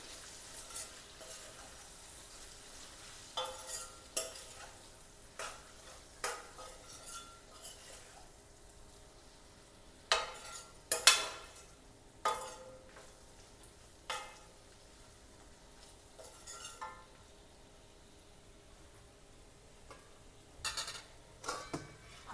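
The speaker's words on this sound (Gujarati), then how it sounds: "આ બધાને આપણે મિક્સ કરી લઈશું" A spoon stirs spices into a brinjal and potato curry in a pan, scraping and clinking against the metal in irregular bursts over a faint, quiet background sizzle.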